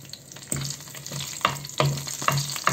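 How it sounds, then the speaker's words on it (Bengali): Whole spices such as cinnamon, bay leaf, a dried chili, star anise, cardamom, cloves and cumin seeds fry in hot oil, sizzling steadily up close while a utensil stirs and taps the pan a few times. "একটু আমি গরম করে ফোড়ন করে নেব"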